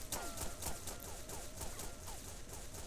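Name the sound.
shotgun firing in the video game XSHOT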